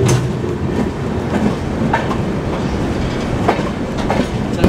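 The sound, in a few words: Bhopal Shatabdi Express train running on rails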